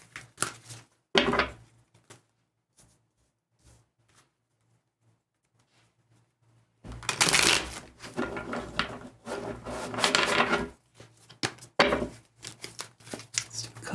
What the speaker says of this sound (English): I'm just going to be shuffling here for just a second.